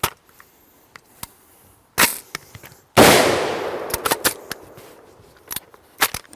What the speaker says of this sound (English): All right, last mag, let's try full auto.